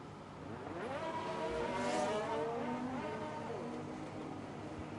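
McLaren and Red Bull Formula 1 cars leave the pits in a racing video game, their engines droning steadily with rising and falling revs that swell mid-way before easing, with no one talking.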